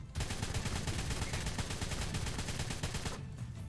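Rapid gunfire in ARK: Genesis as wyverns are shot from a rock, a dense, steady volley of close shots running nearly four seconds before cutting off abruptly.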